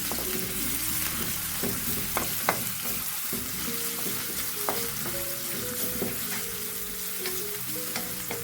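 Onions fry in a pan with a continuous sizzle, while a utensil stirs and scrapes, giving scattered sharp clinks and taps over the hiss and no talk.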